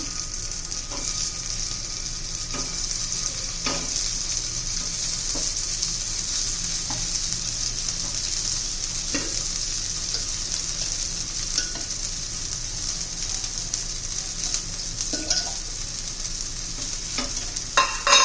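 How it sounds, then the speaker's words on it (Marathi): Sabudana appe balls sizzle in a hot appe pan, a steady bright frying hiss with scattered small pops and clicks as the balls are set in place, no one speaking. "आप्पे पात्र गरम झालेलं आहे आता आपण ठेवून घेऊया हे पा आता बॉल्स आपण इथं ठेवून घेणार आहोत"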